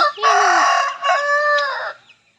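A rooster crows loudly and close by, one long drawn-out call with a brief break in the middle, then it trails off into quiet.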